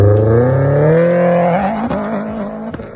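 A Subaru EJ25 boxer engine in an Impreza revs up with a rising, throaty burble, then eases off and settles into a lower steady drone, loud and close.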